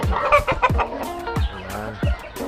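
Boston Black chickens cluck in a backyard with repeated short, loud, close calls in an uneven rhythm and no talking.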